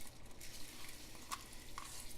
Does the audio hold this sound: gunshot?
no